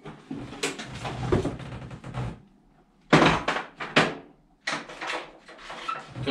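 Drawers and cupboard doors being opened and shut while rummaging through a workshop, a run of clunks, slides and thumps in irregular bursts with short pauses between, fairly close and alone.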